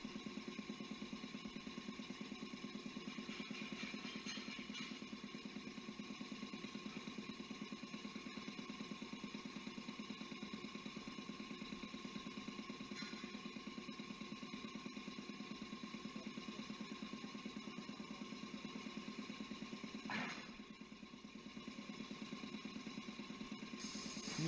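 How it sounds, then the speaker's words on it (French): An electric air compressor runs steadily, its motor giving a constant droning hum with mechanical vibration throughout, close and unbroken apart from a brief change near the end, with no talk. "Le compresseur est maintenant en marche."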